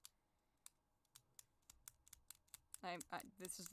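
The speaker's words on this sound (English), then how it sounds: "This is the sound of a pen clicking" A pen is clicked repeatedly, a series of sharp, close, fairly quiet clicks at a steady uneven rhythm, followed by a brief voice speaking near the end.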